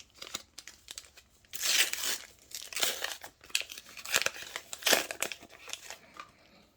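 Foil wrappers of Pokémon card packs from a McDonald's Happy Meal crinkle and tear close up in several bursts, with quieter handling rustles between them.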